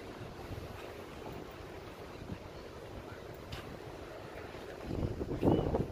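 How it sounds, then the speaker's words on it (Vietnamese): Cool wind blowing near the Red River by Nhat Tan Bridge in Hanoi, a continuous rough rumble of wind against the microphone, swelling in a louder gust near the end. "Wow, gió mát."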